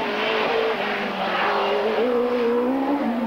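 Roger Moran's Pilbeam Judd race car with a 2.5-litre engine climbs the Shelsley Walsh hill, its high-revving engine note rising steadily under hard acceleration, loud and close, with no voices.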